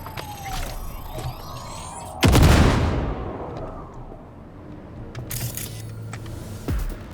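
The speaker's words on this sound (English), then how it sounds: "You can detonate your grenade." A grenade detonating in Cyberpunk 2077, a single loud, close blast followed by a long decaying rumble, with scattered shots and mechanical noises before and after, and no talking.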